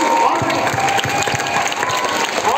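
Applause from an audience of students and teachers at a Constitution Day program at a model school in Telangana, dense and continuous with some voices and crowd noise mixed in.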